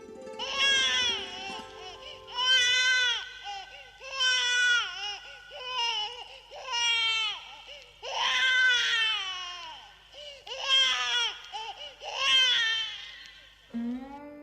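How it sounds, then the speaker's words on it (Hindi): A newborn baby cries in a school annual-function stage play about Krishna, with repeated loud, clear wailing bursts in a rising and falling rhythm and no talking. "अरे, बच्चे की रोने की आवाज।"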